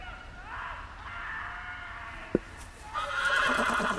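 In a Game of Thrones video game, a horse's whinny rises and trails off amid game ambience, with a sharp click partway through and a swell of busier background noise afterward.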